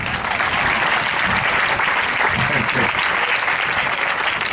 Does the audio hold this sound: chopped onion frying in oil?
no